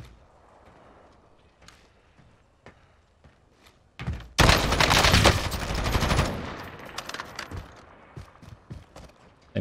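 Unsuppressed weapon fire in Warzone: after quiet footsteps and light thuds, a loud close burst of automatic gunfire erupts, then fades into scattered shots and movement sounds.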